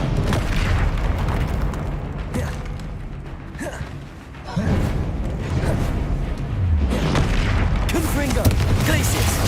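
Casting of the Incendio fire spell in Hogwarts Legacy, a whooshing fiery burst with booming impacts amid ongoing combat noise, brief lull then renewed crackling bursts, with speech at times.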